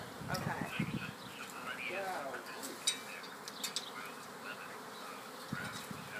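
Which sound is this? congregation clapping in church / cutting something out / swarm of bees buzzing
swarm of bees buzzing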